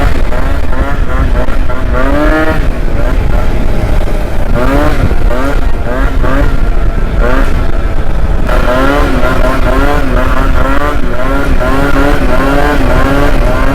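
A Yamaha Zuma scooter on a ride, its small engine loud and close, revving up and down in waves with steady wind rush throughout.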